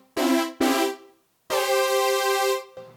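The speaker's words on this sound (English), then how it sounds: "So that should sound very familiar to you as a sawtooth type of a patch." A wavetable polyphonic synthesizer plays an anti-aliased sawtooth patch using a spline-interpolated analog model. Three loud, bright, buzzy notes sound on their own: two short ones, then a longer sustained tone, with no talk.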